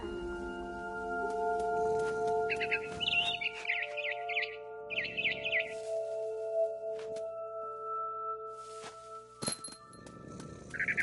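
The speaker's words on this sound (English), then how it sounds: "It was a barn swallow going back to her nest." Barn swallow chirps in the video game What Remains of Edith Finch, bright repeated twittering bursts over a steady tonal game ambience, with occasional clinks and soft thuds, clear and close with no talking.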